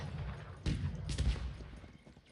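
Rapid gunfire from an army shooting in the real-time strategy game Cossacks, crackling bursts that swell and fade over a steady game-sound bed, with no talk.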